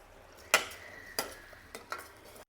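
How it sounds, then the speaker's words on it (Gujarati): Spices and masala paste sautéing in a pan for a cluster bean curry, a quiet sizzle broken by a few sharp scrapes of a spoon stirring against the pan. "મસાલા પેસ્ટ સાથે મસાલા સારી રીતે સાંતળી લેવાના"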